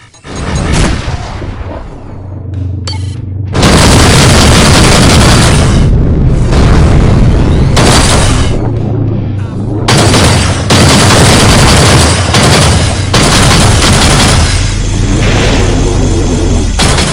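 Incoming missile detonations in the space combat game Rebel Galaxy 2, a run of loud, close booms and crackling blasts that roar almost without pause after a short opening burst.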